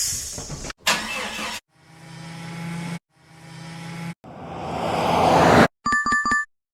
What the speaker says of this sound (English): Sound is car drive by.